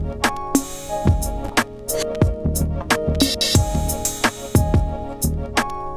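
An example drum pattern from a Pro Tools factory kit plays as a punchy, looping beat of sharp kick, snare and hi-hat hits, with sustained tonal layers running underneath, loud and upfront.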